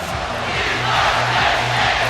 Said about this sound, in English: the We Are Penn State chant